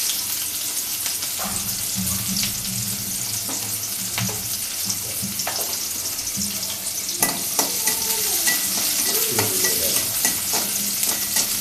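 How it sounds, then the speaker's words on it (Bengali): Onions fry in a wok while being reddened for a ridge gourd stir-fry, a close, steady sizzle with frequent scraping stirs of a spatula against the pan. "পেঁয়াজটা আমি একটু লাল লাল করে ভেজে নিলাম"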